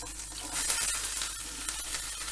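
Peppers fried in butter with a splash of olive oil for menemen give off a steady, dense sizzle that swells slightly after the first half-second and holds without any voices.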